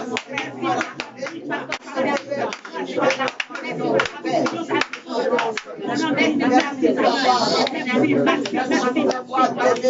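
A church congregation at a deliverance service clapping rhythmically in praise, many hands beating a steady tempo beneath loud voices speaking and singing throughout.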